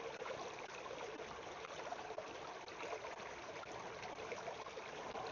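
Water pours steadily into the reservoir of an H2go water purifier, a continuous close trickling and splashing stream with no pauses.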